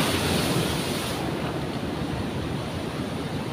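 Ocean waves break on the shore in a steady, broad roar of surf and wash. The sound is loudest at the start, then settles into a softer, continuous hiss, with wind buffeting the microphone.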